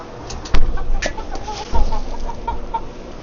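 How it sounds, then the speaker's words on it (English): A chicken left alone in its run clucks in a few short, close calls amid farmyard background noise, with a couple of louder bumps in between. "We have one chicken in the run still."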